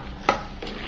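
Thick sweet peanut candy stirred in a pan with a metal skimmer, one short scraping clink standing out over a faint bubbling sizzle.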